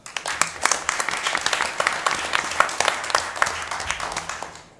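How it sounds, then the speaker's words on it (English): A city council meeting audience gives a round of applause to the youth council, dense overlapping claps starting sharply and holding steady, fairly close and loud, with a murmur of voices mixed in. "So huge round of applause for our youth council."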